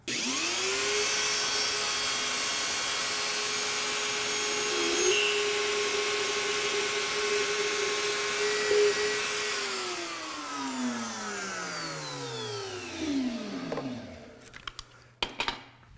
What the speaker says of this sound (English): now that we have our router mounted there, we're going to do our initial plunge through the jig